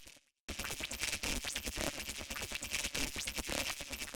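A DS Thorn lead synth ring-modulated by FL Studio's Frequency Shifter, a dense metallic, scratchy tone that starts abruptly after a brief gap and pulses busily for a few seconds.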